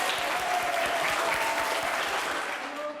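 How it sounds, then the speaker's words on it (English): Children clapping together at a school maths assembly, a dense steady patter of small hands filling the room and continuing without a break, with a faint voice barely audible underneath. "Give them a clap."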